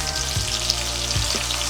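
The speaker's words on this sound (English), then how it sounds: "we're going to just let this go for a few minutes because we want to get a nice sear on the other side" Chuck steak searing in a hot pot, a steady close sizzle and crackle with a low hum underneath and a couple of faint soft knocks.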